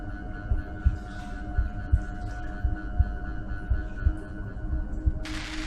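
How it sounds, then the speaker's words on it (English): A person's own heartbeat inside a flotation tank, slow regular double thumps, deep and muffled, repeating about once a second over a low steady hum, with a brief hiss near the end. "In my head, my heartbeat sounds so much louder than it does."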